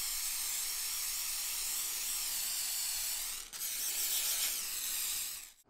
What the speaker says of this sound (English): I'm going to just take some WD-40, and this is the gel lubricant.